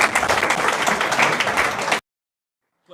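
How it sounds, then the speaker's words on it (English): An audience at a hall of fame induction ceremony claps and applauds for two seconds, then the sound cuts to silence before a faint trace returns. "One more big round of applause."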